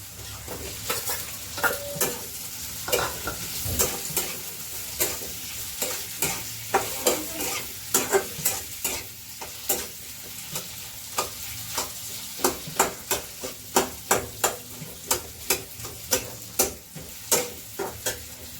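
Potatoes frying in a pan with turmeric powder and red chili powder, a steady sizzle broken by repeated sharp scrapes and clacks of a spoon stirring against the pan, close and loud, no talk.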